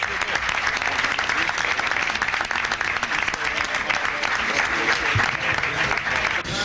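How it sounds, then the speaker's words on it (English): Dense audience applause fills a conference panel room, steady loud clapping from a large crowd held at an even level throughout. "Let's hear it for Bobby Poe."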